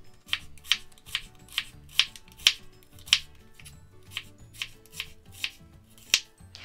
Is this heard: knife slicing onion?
yes